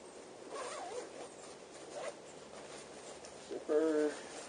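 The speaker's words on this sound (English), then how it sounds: "Zipper, carry bag" A zipper on a Tern Verge P9 bicycle's carry bag is pulled in one quick, close rasp near the end, after soft handling and rustling.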